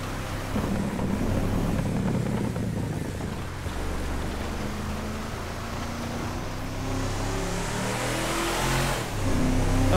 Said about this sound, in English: This truck sounds good in this tunnel.